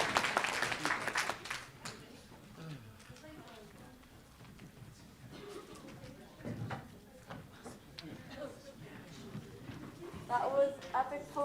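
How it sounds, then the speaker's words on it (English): Applause from the audience at a disability conference in South Wales after a trio's performance, with clapping mixed among voices and cheers and a brief louder burst near the end. "Round of applause again"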